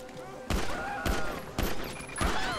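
A gun fires in the video game GTA 5 in four evenly spaced, booming single shots, each with a long rolling tail that fills the gap before the next. All are loud and close.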